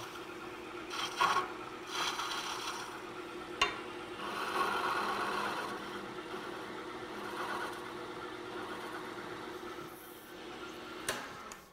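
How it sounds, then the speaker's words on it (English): A skew chisel cuts a bead on a spinning wood lathe, giving a soft, steady scraping rasp. It swells and fades over several passes, with a few sharp clicks between them and a low motor hum underneath. "I can clean up that bead with my skew."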